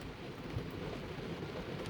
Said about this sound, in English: And then you look at the rain coming down on the window.